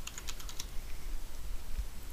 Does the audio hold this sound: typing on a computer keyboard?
yes